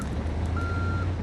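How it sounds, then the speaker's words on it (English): A hotwired van in the Project Zomboid video game emits a steady electronic beep tone that sounds continuously over a low engine rumble, close and even for the whole moment. "This beeping noise could bring me trouble in the future."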